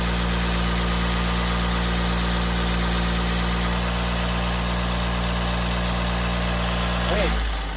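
Scotch-Brite pad polishing a reground bread knife blade on a running machine, a loud, steady, unbroken whir and grind with a constant low hum throughout, briefly shifting near the end.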